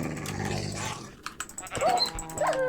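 A dog in the TerraFirmaCraft video game barks and yips excitedly at sheep, a short burst of sharp game barks with whining pitch bends following a rumbling stretch, moderately loud.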